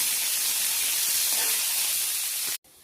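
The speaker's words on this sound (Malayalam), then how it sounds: "കൊച്ചുള്ളി വഴന്നു വന്നു" Small shallots sauté in coconut oil in a pan, a steady, even hiss throughout that cuts off abruptly near the end.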